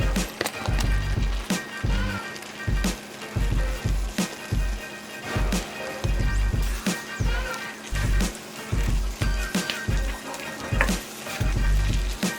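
Egg whites are stir-fried in a hot pan, with a steady sizzle under repeated scraping and knocking strokes of a utensil against the pan in an irregular rhythm, close by.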